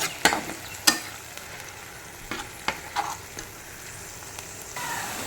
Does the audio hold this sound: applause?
no